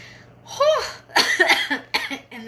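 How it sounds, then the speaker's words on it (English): A person coughs in a close, loud series of harsh bursts, one long cough followed by several quicker ones with breaths between, no other sound. "And then I cough."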